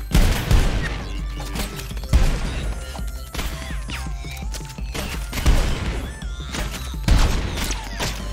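Gunfire with ricocheting bullets bursts in the ROUNDS 1v1 shooter game, loud clustered volleys of shots and impacts punctuating a busier backdrop of clatter and effects, with no talk.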